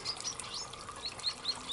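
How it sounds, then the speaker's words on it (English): A California goldfinch sings in a garden: a few faint, high, thin chirps scattered over soft outdoor background noise. "That's a California goldfinch."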